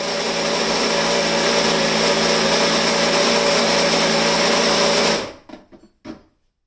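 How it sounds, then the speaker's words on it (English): Coffee grinder dosing 17 grams of beans for a Breville Infuser espresso machine, a loud steady whir running continuously for about five seconds, then stopping abruptly with a couple of short taps and knocks after. "This takes 17 grams of coffee, so I'll use my grinder to dose 17 grams."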